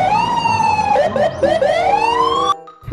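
A toy police car siren wails loudly and close by, a steady rising and falling electronic tone that runs for about two and a half seconds and then cuts off abruptly.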